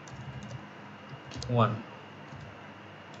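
Someone typing a model name on a computer keyboard, heard as a few faint, light key clicks, with a person speaking briefly.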